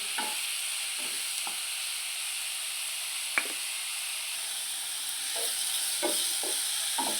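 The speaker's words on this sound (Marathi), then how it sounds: "वाटण पण एक दोन मिनिट आपल्याला परतून घ्यायचं आहे" A paste of dried coconut, garlic and ginger sautés in a pan for an egg masala, giving a steady sizzle with scattered scraping clicks as it is stirred, and no talking.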